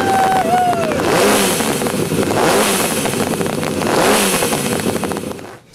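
Homemade multi-cylinder motorcycle engine, part of a 48-cylinder bike build, running close by and revving in repeated rising surges with clattering mechanical noise, fading at the end.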